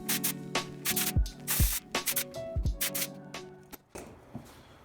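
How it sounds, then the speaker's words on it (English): Compressed air blasts old paint and debris off the rear shocks of a 1981 Honda XL125s motorcycle: several sharp, close hissing bursts with brief gaps, amid clattering handling noises and a faint tonal hum. "we're gonna blast this stuff off with a bit of air"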